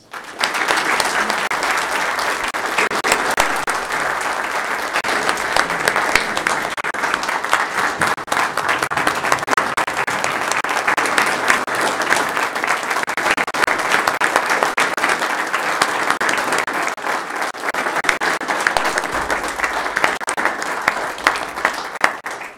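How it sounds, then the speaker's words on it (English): Sustained round of applause from the audience at a county commission meeting, a long, even wash of many hands clapping at steady loudness for over twenty seconds. "Do you join me with a round of applause, please?"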